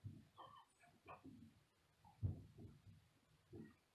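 A puppy in the background gives several short, soft yips and whimpering barks in an uneven rhythm, fairly faint and indoors, with no talking over it.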